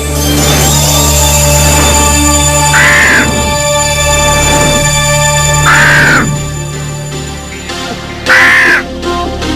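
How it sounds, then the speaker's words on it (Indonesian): A flock of crows caws in loud bursts, a harsh cluster near the start, another around the middle and a third toward the end, over a steady droning background. "Ya, itu kumpulan gagaknya."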